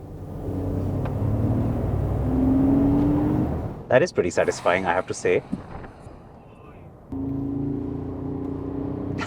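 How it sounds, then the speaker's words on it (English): Artificial engine sound from an electric Mercedes-Benz G 580, a low humming drone that swells into a rumble, broken by a few seconds of close talking before the steady synthetic growl returns. "a lot of cars these days have the artificial sound,"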